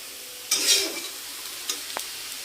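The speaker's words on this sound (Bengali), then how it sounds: "আর হচ্ছে বিট, কাঁচা লঙ্কা সব ভাজা হচ্ছে।" Beetroot and green chillies for chowmein fry in a pan; a burst of loud sizzling and stirring swells up, then fades under a few utensil taps and scrapes, close by with no talking.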